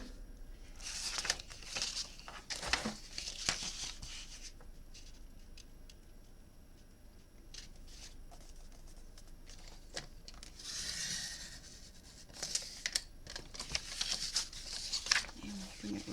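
Scissors cut paper for a handmade birthday card in crisp snipping and crinkling bursts close by, with quiet pauses between the cuts.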